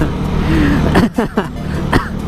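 A few sharp coughs burst out in quick succession over a steady low background hum, close and fairly loud.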